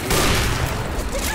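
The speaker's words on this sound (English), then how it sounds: "Molotov!" A Molotov cocktail bursts into flames in Left 4 Dead 2, a loud, dense whooshing roar amid gunfire that fills the whole moment, with no clear gap.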